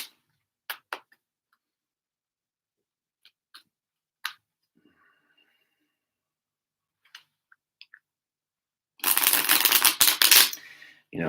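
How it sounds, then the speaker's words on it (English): Tarot cards shuffled in a burst of dense, rapid riffling near the end, after a stretch of quiet with a few scattered soft clicks and taps. "I'm going to pull another card"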